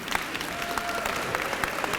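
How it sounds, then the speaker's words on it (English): Audience applause at a university founders' convocation, a steady crowd of clapping with scattered sharper claps, at moderate level and with no voices over it. "Please give them a round of applause."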